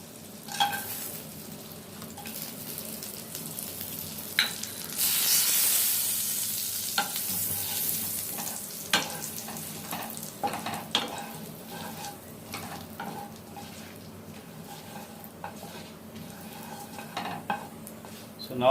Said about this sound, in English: And goes our whole garam masala.